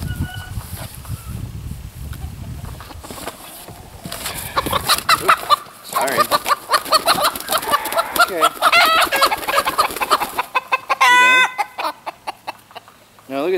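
Chickens cluck and squawk close by in a busy flock, with bursts of rooster calls rising above the hens and a voice speaking briefly.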